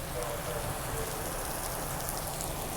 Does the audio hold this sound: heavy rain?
yes